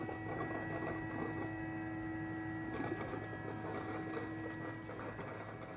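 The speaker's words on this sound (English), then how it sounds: "I have on the video to show how loud it is when it fills the robot water with water." A robot vacuum's base station fills the robot with water, giving a steady, fairly quiet mechanical hum and whir with a constant pump tone that carries on without pause.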